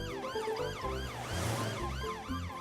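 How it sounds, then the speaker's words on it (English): Police car siren in a Peppa Pig cartoon, a rising and falling wail repeating several times, loud and close over a low musical score, with no voices. "It's Police Officer Panda in his police car coming to see if everyone's okay."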